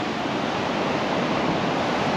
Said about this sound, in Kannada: ಇಲ್ಲಿ ನೋಡಿ ನೀರು ತುಂಬ ವೇವ್ಸ್ ಅಂತೂ ತುಂಬ ಇದೆ ನೋಡಿ